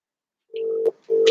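Two electronic telephone ring tones, a steady buzzing tone that pauses briefly and then sounds again, loud and clear with no talk.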